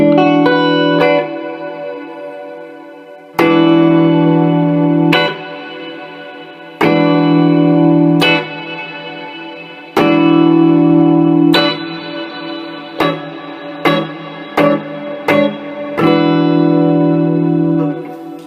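A Les Paul with humbuckers plays through a Quilter Micropro Mach 2 amp with the reverb dwell turned full. Several strummed chords ring out loud and alone, each with a long, lush reverb wash, followed by a cluster of quicker stabs.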